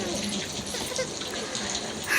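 Heavy rain pouring down steadily in Bangalore, a dense continuous hiss and wash of water with no breaks, close and fairly loud.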